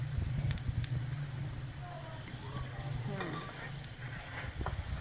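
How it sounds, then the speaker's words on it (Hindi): Saag paratha frying on a hot pan, a steady soft sizzle with a low continuous hiss and a few light scraping touches, heard fairly close with no talking over it. "ये देखें बहुत अच्छा बन रहा है पराठा।"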